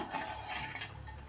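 Ghee payasam with milk and sugar being stirred in a pot, giving a faint, steady scraping and swishing that runs continuously without any voice.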